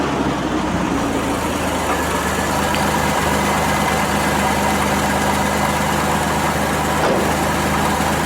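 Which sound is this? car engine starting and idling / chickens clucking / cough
car engine starting and idling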